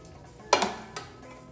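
A spoon stirs lime juice into raw chicken for jerk chicken in a bowl, making two or three quick, close clinks against the dish, then quiet.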